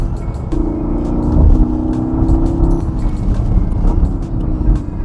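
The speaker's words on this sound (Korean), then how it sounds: "뒷구녕에서 바바바박 이 소리가 안 들릴 것 같지만 제 귀 속엔 들립니다" A Porsche Panamera GTS revs on the road, its engine and exhaust droning with a rising then falling tone and faint crackling pops, loud and close from inside the car.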